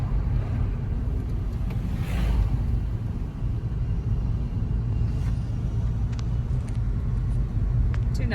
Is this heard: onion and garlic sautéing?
no